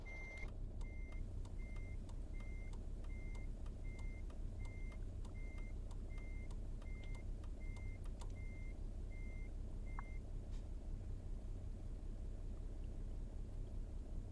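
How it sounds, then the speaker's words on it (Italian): A reversing beeper on a Mercedes-Benz SK truck in Euro Truck Simulator 2 sounds an even, steady series of beeps for about ten seconds, then stops, over a constant low engine rumble. "E luce di retromarcia con tanto di cicalino sonoro."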